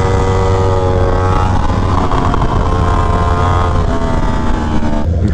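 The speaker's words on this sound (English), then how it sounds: "There goes a Pinellas County sheriff." A Pinellas County sheriff's vehicle drives past, a loud, steady engine roar with a broad rushing drone that holds for about five seconds and eases slightly at the end, with no talk.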